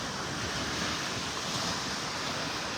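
Ocean waves wash onto a beach in North Naples, Florida, as a steady, dense roar of surf blended with wind noise, constant and moderately loud with no talking.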